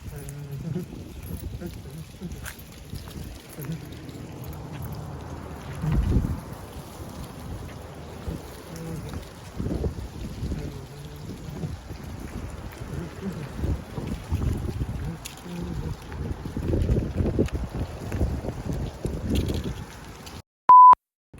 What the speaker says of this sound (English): it is so windy, it blew the camera over